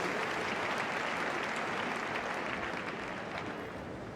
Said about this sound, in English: We can give him another round of applause, can't we?